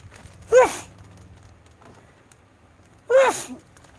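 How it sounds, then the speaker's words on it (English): A person sneezes twice, about two and a half seconds apart, each a sharp, loud burst close by with a low hum and faint rustling between them. "Sneezing."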